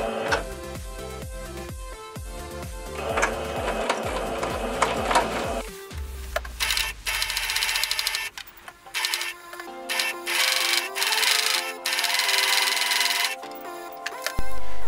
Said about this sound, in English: You're going to sew along this area with a straight stitch.